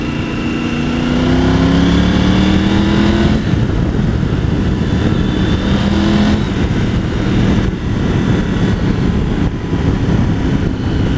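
A Triumph Tiger 900 GT Pro motorcycle ridden on the road, its engine tone rising through the revs over steady, loud wind rush.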